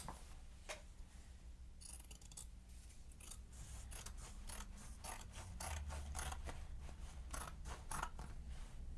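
Scissors cutting fabric up close, a quick series of crisp snipping strokes in an uneven rhythm, each cut a sharp rasping burst over a low steady hum, with no voices.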